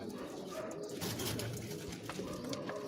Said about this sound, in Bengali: এই যে কবুতরটা